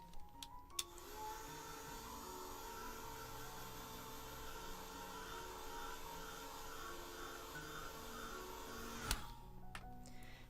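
A hair dryer blows steadily on wet watercolor paint in a flower painting, a loud, continuous whirring rush that runs for about eight seconds before switching off, with brief clicks at the start and end.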